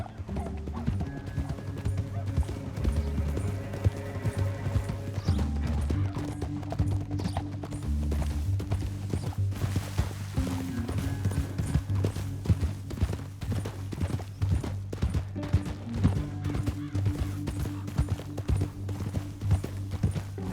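Horse hooves clip-clop steadily in a Red Dead Redemption canyon scene, a continuous rhythmic trot with occasional whinnies, heard alongside game sounds and a faint voice.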